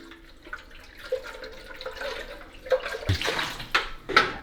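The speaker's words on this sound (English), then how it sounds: "Now I'm emptying out the old solution." Used descaling solution poured out of the water container of a DeLonghi Magnifica S coffee machine, a brief splashing of liquid with a few drips and clatters near the end, close by with no talk.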